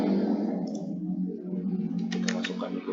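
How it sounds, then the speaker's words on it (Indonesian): A handful of quick computer mouse clicks come in a short cluster toward the end, small and crisp over a constant low electrical hum. "Kemudian kita klik kembali"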